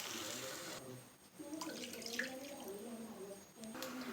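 Water pours into a pan while Maggi noodles are being prepared, a soft continuous trickle and splash with a brief pause midway, heard under a voice speaking.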